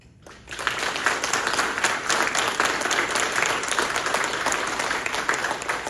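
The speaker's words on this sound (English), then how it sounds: "So please give yourselves a round of applause." An audience breaks into sustained applause at a community funding event, a dense, close wash of clapping that starts abruptly and continues evenly to the end.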